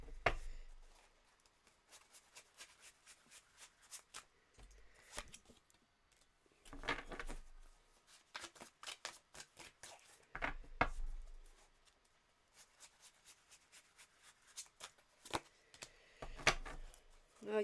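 Tarot cards are shuffled close by in repeated bursts, crisp riffling flutters and soft slaps separated by quiet gaps, at a low overall level.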